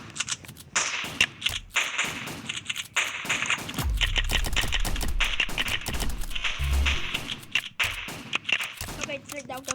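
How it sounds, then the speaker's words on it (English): Shotgun fire from the Shotgunner tower in the video game Tower Defense X, sharp cracking blasts in rapid, uneven bursts, with a voice occasionally audible alongside. "that shotgun sound is so satisfying"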